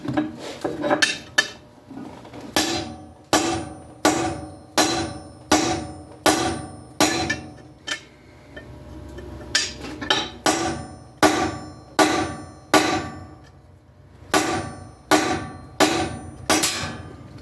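Hammer striking a cold chisel through 3/16-inch steel: about fifteen sharp metallic clangs at a steady rhythm with brief pauses, ringing close and loud with no talk.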